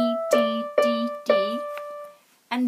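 A piano picks out part of a melody as a slow run of distinct struck notes. Each tone rings and fades before the next, then a short pause comes before another note begins.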